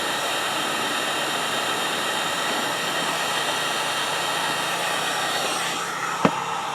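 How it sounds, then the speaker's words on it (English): A heat gun blows steadily on a misshapen rubber bumper during a repair, giving a constant loud broadband rush that holds throughout with a single sharp click near the end. "I'm holding the bumper and the heat gun with one hand."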